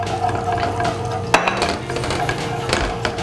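A spoon scrapes and clinks in a pan while cream curry sauce for chicken curry is stirred over rising heat, with steady close scraping, a few sharp metallic taps and a soft bubbling background.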